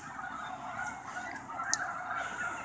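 Swans at Chautauqua National Wildlife Refuge near Havana, Illinois honk in a dense, continuous chorus from a distance, with a wide outdoor wash and no talk.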